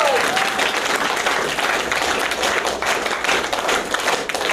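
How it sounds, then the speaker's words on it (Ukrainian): Dense, steady applause from a theatre audience in a hall, many hands clapping at once, loud and continuous throughout. "глядачі і сміялися, і плакали, не скупилися у залі й на оплески"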